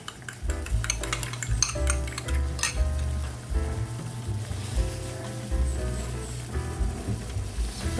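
An egg goes into a simmering tilapia stew in a pan, amid a continuous bubbling sizzle with scattered clinks of utensil against pan, close and fairly loud, with no talking.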